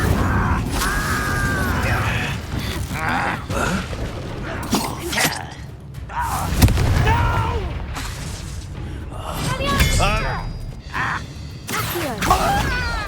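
Spell impacts from Confringo and Incendio casts in Hogwarts Legacy: repeated bursts, booms and crackling magical effects, mixed with sweeping whooshes and game sounds, with a voice calling over them throughout.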